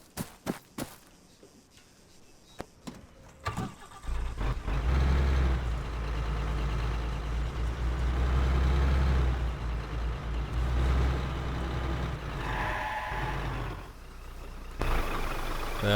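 Scattered clicks and knocks lead into a vehicle in ArmA 3 starting to drive, its engine settling into a steady, loud rumble that carries on to the end.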